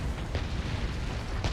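A Bolide meteor spell slams down in Dragon's Dogma: Dark Arisen, a dense rumbling roar of impacts with booming low thuds that runs unbroken across the short stretch.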